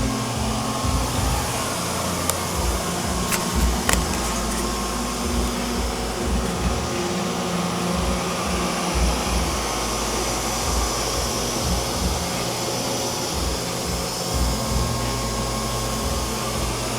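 A Neato Botvac D75 robot vacuum runs its suction fans with a steady, close whirring drone and an airy rush, holding constant throughout with occasional faint clicks.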